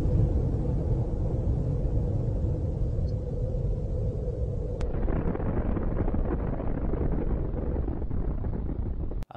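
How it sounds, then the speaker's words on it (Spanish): A deep, sustained rumbling roar of an explosion in the city of Managua fills the whole clip, changing character midway, then cuts off abruptly at the end. "una explosión sacudió la ciudad de Managua"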